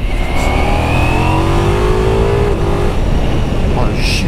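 Ducati Multistrada V4 pulling hard under acceleration, its engine note rising in quick sweeps with smooth quickshifter gear changes, loud and close with wind buffeting.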